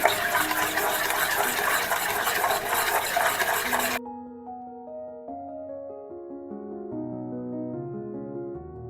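Spoon stirring fish pakoda batter with chopped coriander in a bowl, a steady wet scraping for about four seconds, then it stops and soft music continues alone.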